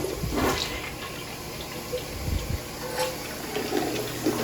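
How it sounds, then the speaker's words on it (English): Toilet flushing during an interior home inspection, with both tank and bowl securely fastened: a steady rushing flow of water lasting several seconds at moderate level, with gurgling swells and no talking. "Last thing I want to do is flush it."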